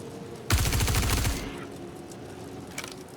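Rapid automatic gunfire in the space game Star Citizen, fired at targets in one loud, dense burst of about a second, then a faint hum with a brief later crack.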